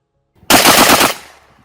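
A Benelli M1 Super 90 semi-automatic shotgun fires one loud, close blast with a rough, rattling body lasting about half a second, then a quick fading tail.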